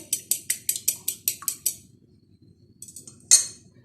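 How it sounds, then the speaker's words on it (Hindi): A single egg whisked in a bowl for chicken shami kebabs, about a dozen quick, evenly spaced metallic clinks of utensil on bowl, then a pause and a few lighter taps ending in one sharper clink. "इस अंडे को अच्छी तरह से फेंट लेते हैं"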